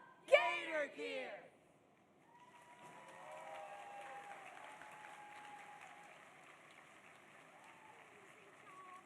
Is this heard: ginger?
no